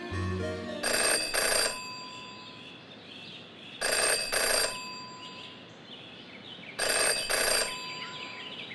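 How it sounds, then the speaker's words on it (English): A telephone rings in the Jenny LeClue video game, three spaced bursts of loud double rings with quiet ambience between them. "In her short time as a detective, Jenny had learned never to ignore a ringing phone."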